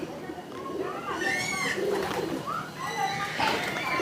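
Pigeons coo repeatedly in a breeder's loft of Indonesian high-flying racing pigeons, with warbling calls close by over steady background noise and some chatter.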